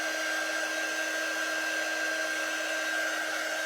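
A hair dryer blows steadily on wet paint on a vintage truck door hanger, a loud, constant whining whoosh with a fixed high tone that never changes.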